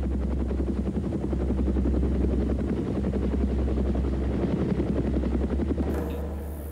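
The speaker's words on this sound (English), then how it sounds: "A supply helicopter was on the way" A supply helicopter for Irish Army troops in the Congo drones steadily with a dense, continuous rotor chop, loud and close throughout with no voices.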